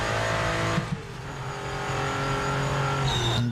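Race car in a racing game under hard braking, engine droning steadily while tires scrub and squeal with a brief skid, loud and close with no speech.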